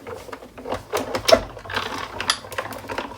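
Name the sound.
Sizzix Big Shot die cut machine cranking panel through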